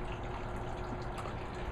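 Water drains out of an aquaponics tank in a hoop house, making a continuous, fairly quiet trickling rush with a faint steady hum beneath it.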